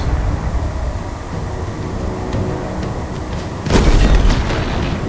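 An explosion as a pylon is destroyed in Halo Infinite, a sudden loud broadband boom at about 3.7 seconds that rumbles on over continuous game noise and low rumble.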